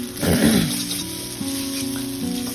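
Vegetables frying in a pan while being stirred, giving a steady close sizzle with a louder burst at the start and scraping stirring underneath.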